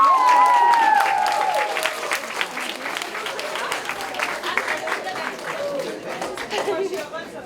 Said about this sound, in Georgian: აში მაგალია აპლოდისმენტები.